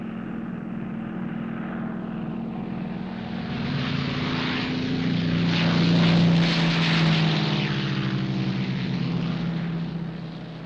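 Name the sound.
propeller airplane engine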